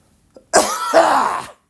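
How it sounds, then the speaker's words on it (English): A single harsh, rasping cough, loud and close, lasting about a second with a short breathy lead-in. "I've been nursing this cough for so long"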